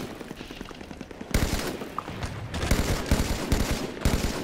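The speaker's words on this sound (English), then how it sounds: "I'm getting shot at!" Rapid gunfire in a Halo 5 custom game on a beach map fills the clip in dense bursts. It swells louder partway through as close shots and automatic fire overlap, with no voices.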